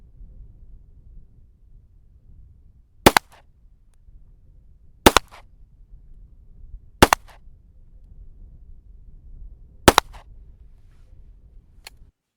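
A CZ75 BD pistol firing 115-grain RMR reloads, four sharp, loud shots spaced about two seconds apart against a quiet range background, each a crisp crack with a short tail.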